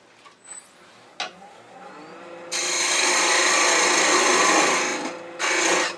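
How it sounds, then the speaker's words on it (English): A parting tool cuts into a spinning wood spigot on a lathe, a steady, close, hissing scrape that starts after a few faint knocks, runs for a few seconds, breaks off briefly and then resumes. "Use the parting tool to cut that."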